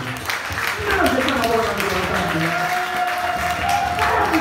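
A church congregation claps steadily in worship, a dense wash of applause with voices rising over it throughout.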